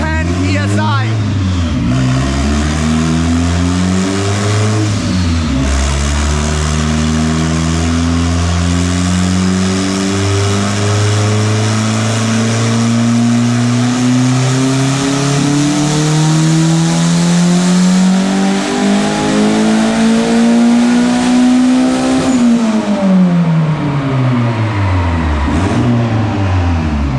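A turbocharged Honda engine running at 10 PSI of boost revs through a pull, the pitch climbing steadily for about twenty seconds before dropping off sharply, loud and close with brief dips and rises at the start.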